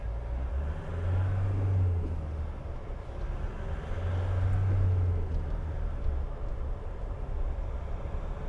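A 2016 Nissan NT400 Cabstar 35.14 MWB dropside truck on a road drive, its engine a steady low rumble with swelling drone that rises and falls, heard from inside the cab with no talk.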